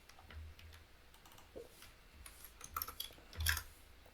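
Keyboard typing during computer-aided design work on a guitar tuning machine part, heard as faint, sparse, irregular key clicks with a brief louder cluster near the end, quiet and close with no talking.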